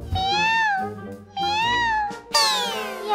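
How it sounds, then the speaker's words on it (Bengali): A cartoon cat meowing three times, clear, drawn-out and close, each call rising and falling, with the last meow sharper and higher. "এখন আবার বিড়াল কোথা থেকে এলো?"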